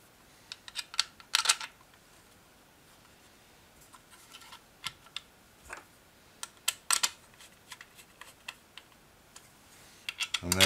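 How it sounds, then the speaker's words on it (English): Small M4 screws being driven into a 3D-printed P-51D Mustang throttle body, heard as sparse, sharp clicks and short ratcheting ticks in scattered bursts, close and fairly quiet against a near-silent background. "Don't drive those too hard because there's not a huge amount of print body that we're screwing into here."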